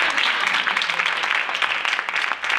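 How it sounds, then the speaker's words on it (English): An audience at a fashion show applauds the men in the room with a continuous, fairly even wave of clapping that carries on throughout. "Let's give the men in the room a big round of applause because you know we outnumber them today."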